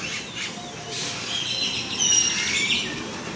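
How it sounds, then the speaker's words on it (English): Small birds chirp up in a tree in the hills of Veracruz, Mexico, a cluster of thin, high tweets and trills at moderate distance that grows slightly louder toward the end. "Yeah, I love these birds."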